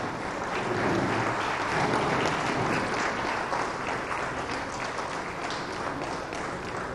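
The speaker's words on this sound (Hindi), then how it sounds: "आपकी बहुत सी तालियां" Broad, steady applause from an audience at a school results ceremony honouring a student's mother, sustained clapping filling the space for several seconds with no voices on top.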